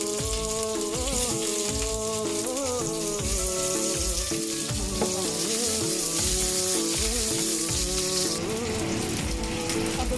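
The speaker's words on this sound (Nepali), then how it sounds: "अदुवा लसुन गोल्डन ब्राउन फ्राई गरेपछि अब म प्याज हाल्छु" Onions fry in hot oil with ginger and garlic, a continuous crackling sizzle that sits under a steady, rhythmic musical background throughout.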